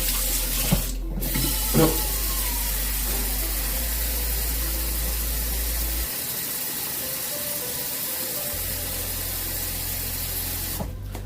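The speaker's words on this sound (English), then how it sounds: "Just grab a bowl of water and then soak them in." Tap water runs steadily into a bowl for soaking oysters, a continuous close hiss and splash lasting throughout with a brief clatter near the start and a shift in tone midway.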